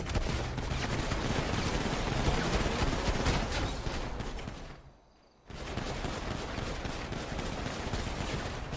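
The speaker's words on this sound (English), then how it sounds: "This guy's friends are shooting at him." Sustained, loud gunfire from a role-play video game shootout, dense rapid bursts that cut out briefly to near silence before resuming just as heavy, with no talk over it.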